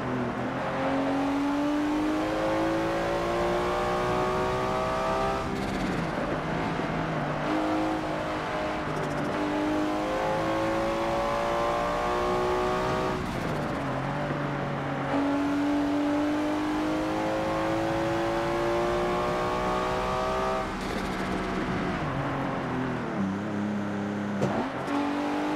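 A 1991 or 1992 Corvette ZR1 engine in Forza Motorsport 7 revs hard through repeated rising pulls with shift breaks between them, a loud, close, crackling engine note that carries on without pause.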